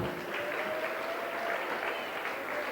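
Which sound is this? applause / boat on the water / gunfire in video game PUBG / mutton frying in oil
applause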